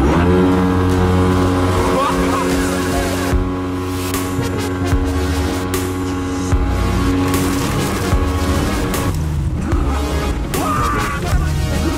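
A motor boat engine revs up and accelerates during a spearfishing trip in Astrakhan, loud and close with a steady droning roar and shifting pitch, while voices talk over it.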